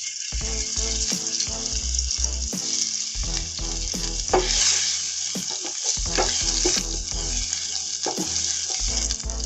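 Masala frying in a pan for vegetarian chana paneer after garlic paste goes in, a constant sizzle with repeated scraping stirs and occasional low knocks of the utensil against the pan.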